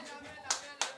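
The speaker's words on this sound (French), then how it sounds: "On applaudit le Seigneur." Two sharp hand claps from a church congregation, spaced about a third of a second apart, sounding over faint background voices.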